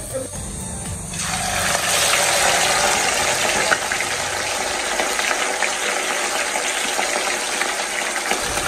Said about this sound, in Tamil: நம்ம எடுத்து ஆயிலில் போட்டு ஃப்ரை பண்ண வேண்டியதுதான்